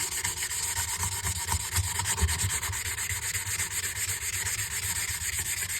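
A plastic panel being rubbed with 180 grit sandpaper gives a steady, close, continuous scratchy hiss with no pauses, loud and unbroken throughout.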